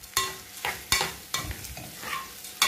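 Stuffed pigeon is stirred as it fries in a pot, with several scraping stirs spaced about half a second apart over a low crackling sizzle, close and fairly loud.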